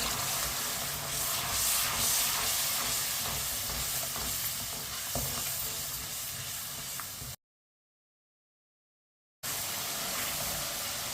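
Masala spices frying in a pan sizzle continuously while being stirred with a spoon, with scraping clatter over a steady hiss, broken by a short silent gap before the frying resumes.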